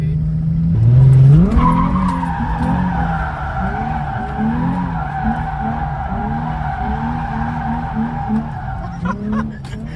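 A car with a welded differential drifting, tires squealing in a long loud sustained screech over a revving engine, close by, with voices briefly underneath.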